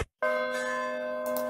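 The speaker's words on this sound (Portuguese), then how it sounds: "Tem mesmo aquele sino de igreja." A single church bell strikes loudly after a brief silence, its deep tone ringing out and sustaining steadily, with a lighter clang near the end.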